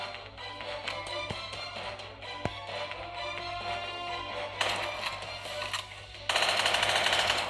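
Gunfire from the Army Men soldiers war video game, a dense mix of rapid shots and sharp cracks with a louder burst near the end, heard alone without talk.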